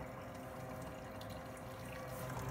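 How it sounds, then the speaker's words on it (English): Water flows steadily through an all-in-one hydronic cooling system on its first run, a faint continuous gurgling rush with pump-like hum and no talking. "so the water in this one's already flowing through."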